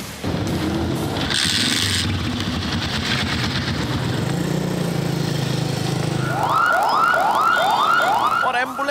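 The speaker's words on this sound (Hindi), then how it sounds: "और एम्बुलेंस के सायरन भी डेसिबल मीटर की तरह हमारे कानों को सुर्ख किए देते हैं" Traffic rumbles nearby, then an ambulance siren starts up and repeats its rising wail several times in quick succession, loud and close.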